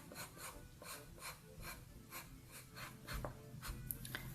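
A pencil sketches on paper with a Paris street artist, making soft rhythmic rasping strokes about twice a second, close and quiet, with a few sharper taps near the end.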